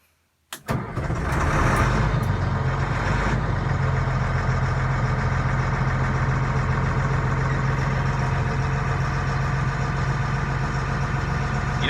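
The FMTV military truck, fitted with a modified exhaust system, cranks and starts with a sharp burst. It then settles into a loud, steady diesel idle with a deep rumble close by.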